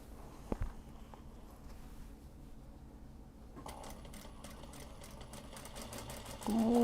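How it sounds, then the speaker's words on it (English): A sewing machine stitches a welt pocket for a mini traveler's notebook, sewn upside down. A faint knock comes first, then a steady run of quick, even stitching pulses starts partway through and continues to the end. "sewing this upside down compared to the rest of them"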